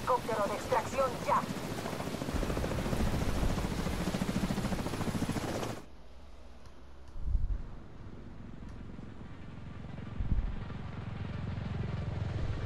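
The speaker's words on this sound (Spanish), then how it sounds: "hay que llevar a Chernenko al helicóptero de extracción ya." An extraction helicopter in The Division 2 video game roars loudly and steadily for about six seconds under game dialogue, then cuts off to a quiet scene with a few faint thumps.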